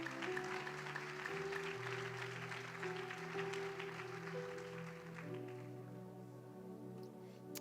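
Church congregation applauding during a Portuguese-language sermon, a soft, steady patter of clapping over sustained keyboard chords that fades after about five seconds while the music lingers.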